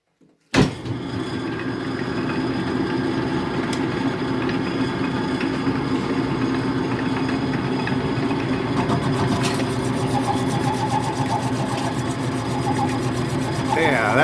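Logan metal lathe starting up and cutting, a sudden motor onset followed by a steady mechanical whir and hum, near and continuous, with a brief sharper cutting noise partway through.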